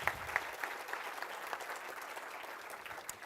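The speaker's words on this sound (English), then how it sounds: "Please welcome with a big applause, Annelies Bobbelijn." Audience applause at an award ceremony closing event, a steady wash of clapping from a seated crowd sustained throughout, moderately distant and even with no voices over it.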